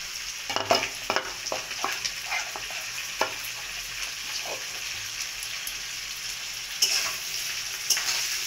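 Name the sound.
chopped onion and tomato frying and being stirred in a pan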